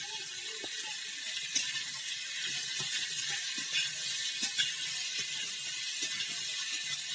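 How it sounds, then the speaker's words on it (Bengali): Radish, potato, cauliflower and beans fry in oil in a pan with green chillies, giving a steady soft hiss with occasional small clicks and pops. "সবজিগুলো খুব ভালো করে ভেজে নিচ্ছি।"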